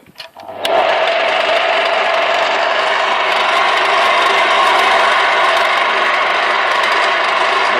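A fine-toothed shredder machine starts up after a brief clatter and settles into a loud, steady mechanical whir and rattle, ready for shredding apples and potatoes.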